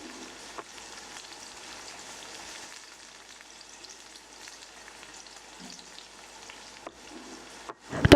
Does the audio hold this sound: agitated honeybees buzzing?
no